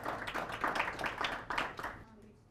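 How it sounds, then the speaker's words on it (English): An audience claps for a panel of speakers at a livestreamed talk on niche crops, a brief burst of scattered, uneven hand claps from a small crowd, with voices mixed in before it fades out. "So please give them a round of applause."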